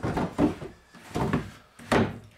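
A bathroom drawer with a broken track in a 1971 Sheller Globe home is pulled and pushed, giving three heavy, scraping wooden thunks in a slow uneven rhythm, close and fairly loud.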